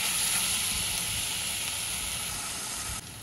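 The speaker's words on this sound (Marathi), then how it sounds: "आणि कैरी आपण छान परतून घेऊया।" Grated raw mango sizzles and fries in a hot pan, a steady loud hiss throughout with a faint clink near the end.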